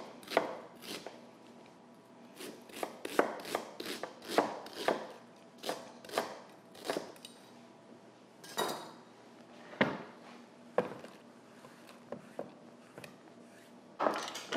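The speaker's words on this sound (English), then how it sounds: "I know I'm using a bread knife to chop this onion" A bread knife chops an onion on a board in quick, close, uneven knocks, some bunched in rapid runs and others spaced apart, with no talking.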